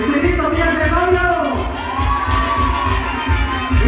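Crowd of women, the groom's aunts, shouting and cheering at a wedding dance in Ameyaltepec, Mexico, a loud continuous clamor of voices with rising whoops over a steady dance beat.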